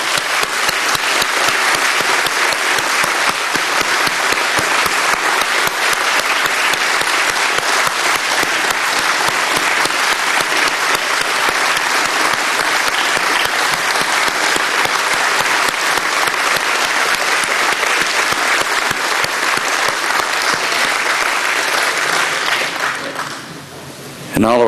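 An audience at the 2009 Tennessee Aviation Hall of Fame induction ceremony gives loud, sustained applause for the inductees. The clapping stays even throughout and cuts off abruptly near the end.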